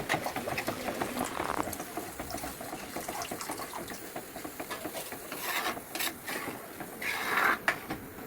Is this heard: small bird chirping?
no